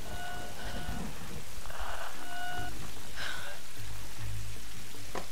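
Rain falls steadily in the Tomb Raider video game, a constant hiss with distant thunder-like rumbles and scattered game sounds layered over it.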